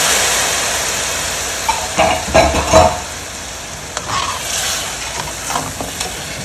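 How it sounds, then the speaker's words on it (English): Marsala wine hitting a very hot pan on high heat for chicken Marsala, giving a steady loud sizzle and hiss with a few stirring scrapes and bubbling bursts, no talk. "while this is good and hot and on a high heat, I'm going to add the Marsala wine or red wine"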